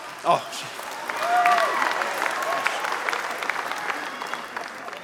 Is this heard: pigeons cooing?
no